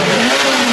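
Cartoon truck engine in Peppa Pig straining and revving while trying to pull a stuck vehicle, a brief loud steady drone with no talking.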